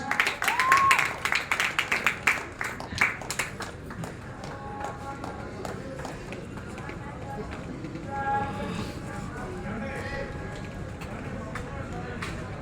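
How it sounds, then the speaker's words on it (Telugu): Audience at a devotional program at the Durga temple in Vijayawada clapping, a burst of fairly close applause in the first few seconds that fades, followed by quieter murmuring and talk. "గట్టిగా క్లాప్స్"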